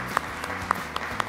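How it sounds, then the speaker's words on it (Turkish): Applause from a quiz show audience, a short burst of clapping with a few distinct sharp claps standing out over a low hum. "Alkışlıyoruz."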